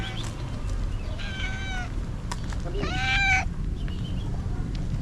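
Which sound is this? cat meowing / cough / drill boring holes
cat meowing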